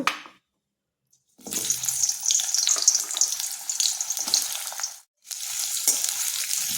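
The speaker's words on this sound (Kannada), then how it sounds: "ಎಣ್ಣೆ ಸ್ವಲ್ಪ ಕಾಯ್ತಿದ್ದಂಗೆ ನಾವು ಈ ಥರ ಬಿಲ್ಲೆಗಳಾಗಿ ಹೆಚ್ಚಿಟ್ಕೊಂಡಿದ್ದೀವಲ್ಲ ಈರುಳ್ಳಿನ ಅದನ್ನು ಹಾಕ್ಕೊಳ್ಳೋಣ" Sliced onion rings drop into hot oil for a raw tomato pulav, setting off a loud, bright sizzle that crackles steadily up close, briefly cuts out, then resumes just as strong.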